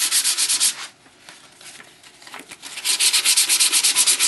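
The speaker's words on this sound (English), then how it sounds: "sand these down a little bit" Cracks on a car dashboard are sanded by hand. Rapid rhythmic rasping strokes come close and loud, pause briefly in the middle with softer scrapes, then resume in a steady back-and-forth rhythm.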